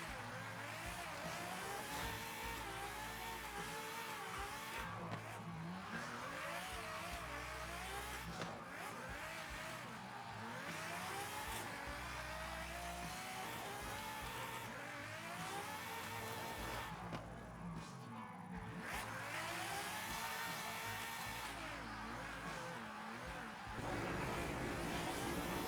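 Continuous revving car engine with rising and falling pitch as the car drifts in Forza Horizon 5, loud and steady throughout, with brief tire squeal and no talking.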